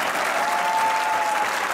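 A studio audience at a Pakistani comedy talk show applauds in a dense, continuous wash of clapping, steady and fairly loud throughout, with a faint sustained tone running through the middle.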